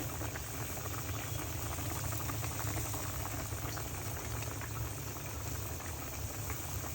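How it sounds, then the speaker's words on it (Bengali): River aair fish curry boiling in a pot, a steady, close bubbling and rolling simmer that holds evenly for the whole stretch, with no voices over it. "তরকারি বলক উঠেছে"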